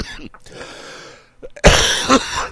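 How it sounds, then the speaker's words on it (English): A man with a bad cold coughs in a lounge, a few rough hacking coughs close to the microphone, with speech and background chatter around them. "Coughing up a lung. I'm coughing on everybody."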